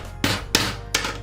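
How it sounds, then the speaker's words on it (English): Three separate hammer taps drive a tiny nail into a Dollar Tree bowl, each a crisp, close knock with a short ring, spaced about a third of a second apart and heard alone. "And then hold it in place and hit it with a hammer."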